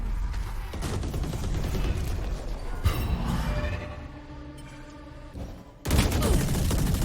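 Grenades and gunfire erupt in a competitive tactical shooter esports match. Bursts of shots and explosive blasts come in rapid clusters at full loudness, with a short lull before another loud burst near the end.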